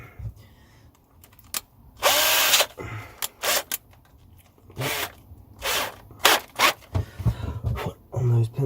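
A power drill with a 2mm bit bores holes into a metal biscuit tin being made into a guitar, sounding as several short whirring bursts close by, separated by pauses, with handling clatter in between.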